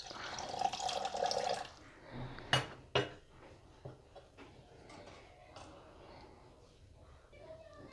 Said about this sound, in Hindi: और थोड़ा थोड़ा पानी ऐड करेंगे इसमें।